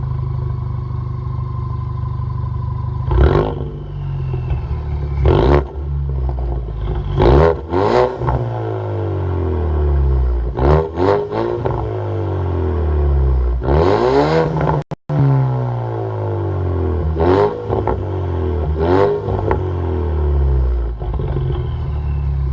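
A 2019 Ford Mustang EcoBoost with its muffler and resonator deleted revs repeatedly, each sharp blip of the exhaust rising and falling in a series of loud bursts with brief idle gaps between.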